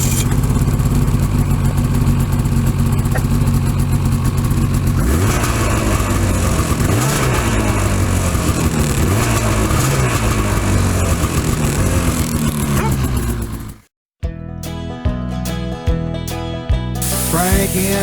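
A snowmobile engine runs loud and close, droning steadily with revving pitch sweeps on a snowy off-grid woodland trail, cutting out abruptly near the end before a different engine-like sound resumes.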